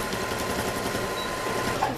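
A sewing machine runs steadily while backstitching on a pencil case, a continuous close mechanical whir with a brief change near the end as it reverses.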